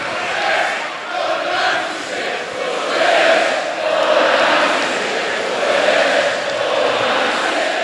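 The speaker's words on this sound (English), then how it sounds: "the whole crowd stood and chanted" A football crowd stands and chants in unison, a dense roar of many voices rising and falling in steady rhythmic swells that carry on without pause.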